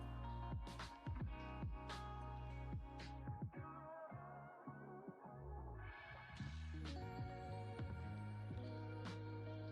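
A 3D printer running a low, flat print gives steady close motor whines that hold a pitch and then step to a new one, with short clicks and shifts throughout and no talking.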